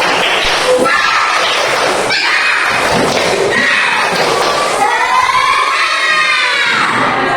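A third-grade class of schoolchildren in an Indonesian classroom chants and claps the tepuk semangat cheer together, loud and close, a dense burst of young voices shouting in rhythm with sharp thuds of clapping hands.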